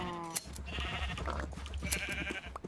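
Sheep in a video game bleat in a few wavering, nasal calls over a dense bed of low rumbling game noise, fairly close and moderately loud.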